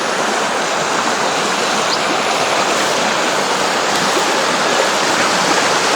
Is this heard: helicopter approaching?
no